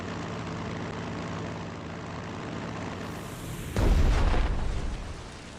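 Heavy bombs explode in Strategic Mind: The Pacific, a single loud, deep blast bursting over a steady engine drone and rumbling away over the following second.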